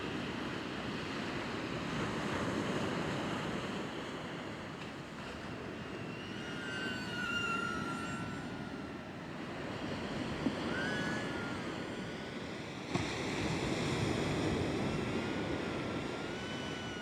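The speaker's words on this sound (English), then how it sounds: "there's a little bit of wind today, but not too bad" Wind buffets across a beach on an overcast day in Perth, a steady broad rush mixed with surf wash and occasional thin whines from a small drone flying nearby, with no talk.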